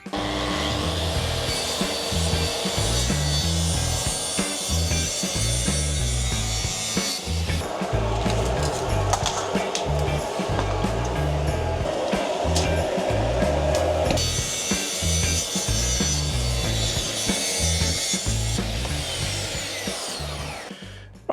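A power saw cuts a plywood panel for a camper conversion wall, a loud continuous buzzing whine close by, running in three long stretches with a brief change in tone between them.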